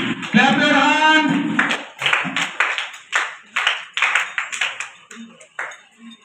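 Children clap for reading competition winners, a run of uneven, sharp claps following a voice, the claps close and moderately loud, with scattered pings and taps.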